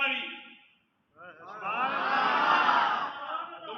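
A crowd at a religious rally shouts a slogan response in unison, a loud swelling roar after a short pause following a lone voice leading the chant.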